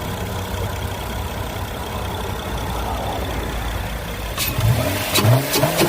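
2014 Honda Accord V6 with a J35 engine and a K&N drop-in air filter, idling steadily and close, then revving in a few sharp bursts near the end.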